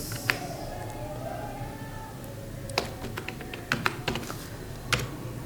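Light, irregular tapping of keys on a computer keyboard as names are entered into an Excel sheet, faint and close over a low room hum.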